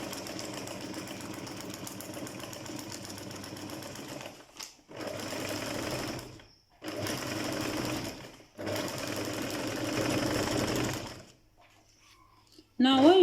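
A sewing machine stitches a seam on fabric squares, its motor whirring loudly and closely in several sustained runs of a few seconds each, broken by short pauses.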